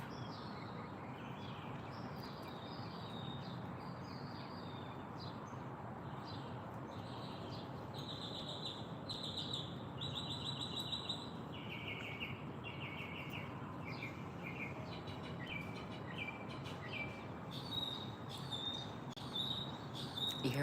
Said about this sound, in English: Quite chatty birdie today.